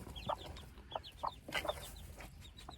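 A hen near her baby chicks clucking in short, separate bursts, with faint higher chirps between them, close by and with no voices.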